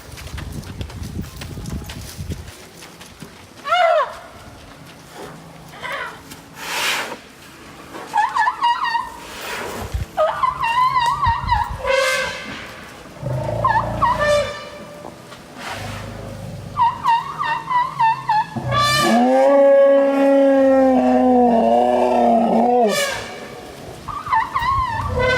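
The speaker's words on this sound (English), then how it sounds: "I didn't even know an elephant could make those sounds." Elephants vocalizing in Thailand, loud and close: a run of bursts, squeals and trumpeting calls with rising and falling tones, ending in a long, strong trumpet blast, with no talk over them.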